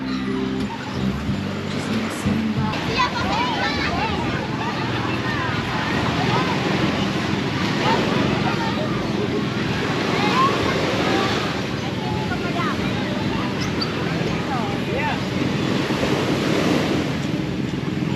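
Rising ocean waves surging and breaking nearby at a beach in Sual under heavy wind noise, with people chatting in the background.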